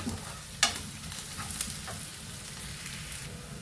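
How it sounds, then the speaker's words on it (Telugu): Dry prawns sizzle steadily in a pan, Kerala style, with occasional scrapes and clicks of a utensil stirring them, close and continuous, without talking. "ఇవి బాగా వేగాలండి."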